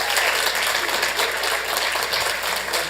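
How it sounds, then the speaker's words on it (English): Steady, dense applause from an audience at a Santa Ana city council meeting, loud and continuous throughout with no pause. "So a big, big, big round of applause."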